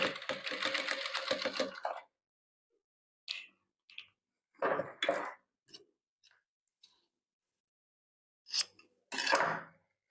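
A sewing machine stitches patchwork quilt pieces in a fast, even burst of whirring, then falls quiet apart from scattered clicks and a few short stitching runs near the end.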